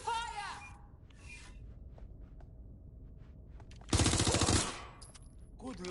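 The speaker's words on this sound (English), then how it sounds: "Please, I need help! Taking fire!" Video game gunfire, a single loud rapid burst of automatic fire lasting under a second midway through, with quieter game sounds and a brief voice at the start.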